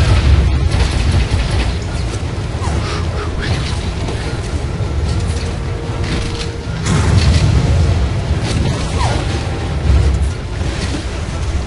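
Loud, heavy booming blasts rumble repeatedly over a dense, noisy background, explosions going off in the video game Lost Planet 2.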